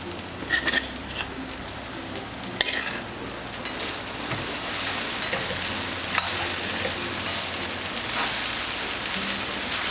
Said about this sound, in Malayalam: ഈ വേവിച്ച് വെച്ചിരിക്കുന്ന ബീഫ് ഇതിലേക്ക് ചേർത്ത് ഇളക്കി കൊടുക്കാം